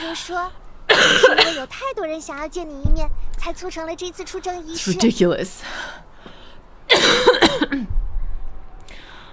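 Several sharp, harsh coughs and throat clearing from a streamer, bursting out in clusters between spells of excited, laughing speech, close and loud.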